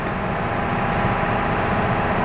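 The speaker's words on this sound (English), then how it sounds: "you'll hear that's the noise of the generator running" A steady, loud mechanical drone with a deep low rumble, continuous throughout with no pauses, from a large diesel generator running close by aboard a Mississippi River towboat.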